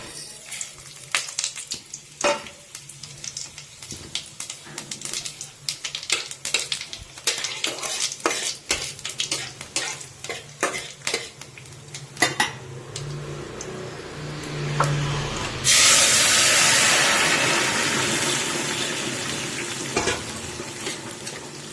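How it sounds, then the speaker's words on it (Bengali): Dried chilli, bay leaf and five-spice seeds pop and crackle in hot oil in a wok, with rapid sharp spatters and utensil clinks, then a sudden loud, steady sizzle swells near the end. "তেল গরম হয়ে গেছে, এখানে আমি ফোড়নও নিয়েছি শুকনো লঙ্কা, তেজপাতা আর 5 ফোড়ন।"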